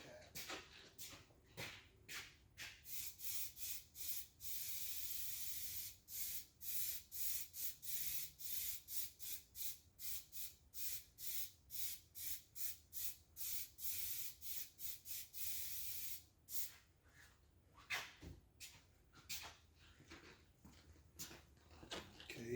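Repeated hissing bursts from an aerosol can of high-tack gasket adhesive, short sprays in a quick rhythm, some longer ones, close up with no talking.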